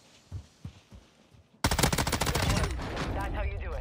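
An M13B rifle fires in Warzone: a loud, rapid full-auto burst of closely spaced shots kicks in suddenly after quieter footsteps and movement, then trails off into echo.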